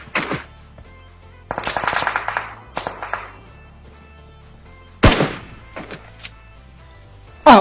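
Bursts of gunfire in PUBG Mobile: sharp, loud cracks in quick clusters with short pauses between volleys, followed by isolated louder shots, no talking.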